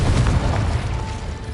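A Confringo explosion spell cast in the game Hogwarts Legacy bursts in a loud, low rumbling boom that lingers steadily for over a second with no talk.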